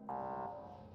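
An alarm tone in the factory-building video game Factorio sounds loud and steady, a sustained buzzing note for about half a second that then fades into a lingering hum.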